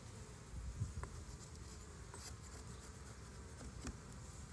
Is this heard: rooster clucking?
no